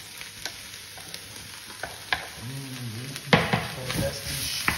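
Onions and leek hit a hot pan for a one-pot vegetable dish: a constant sizzle broken by sharp clanks of a utensil against the pan, with a brief murmuring voice midway.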